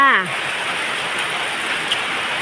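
Steady broadband hiss of rain falling, continuous and even throughout, with a brief voice at the very start.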